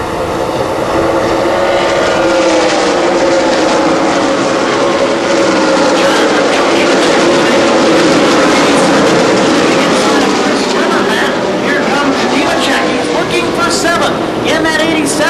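Stock cars race on the Milwaukee Mile oval during an ARCA Midwest Tour event, their engines making a loud, continuous roar that rises and falls as cars pass, with a race commentator talking throughout.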